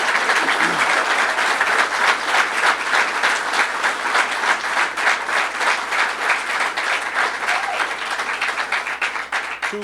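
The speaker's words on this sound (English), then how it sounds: "So let's give him a big round of applause." Sustained audience applause fills a hall after a speaker's introduction at a government announcement of downtown revitalization funding, dense and steady throughout the full stretch.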